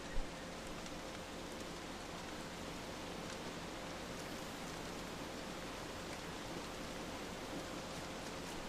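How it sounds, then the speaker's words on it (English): Rain falling in the video game Don't Starve, a steady, even hiss of downpour that holds constant throughout without variation, faint and alone. "oh, it's raining"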